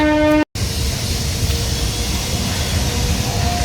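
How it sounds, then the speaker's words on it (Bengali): A passenger train approaches beside the Ganges at Millennium Park in Kolkata, a loud, continuous rumble that follows a brief tone and an abrupt cut, with no voices. "দেখো ট্রেনটা কি সুন্দর আসছে"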